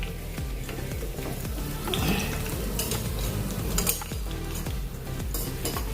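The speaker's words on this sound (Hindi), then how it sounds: "अभी 2 मिनट हो गए हैं, तो इसको आराम से पलटा लेंगे" A ragi bun dosa cooks in a pan with a dense, steady sizzle. Repeated scraping and clinking of a utensil against the pan come through as it is turned over.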